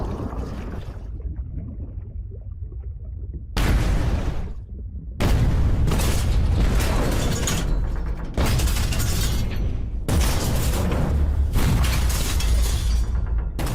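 Underwater depth charges from a wounded warship burst in a series of heavy blasts, each a loud, sustained roar after a brief near-silent start, coming one after another with no voices.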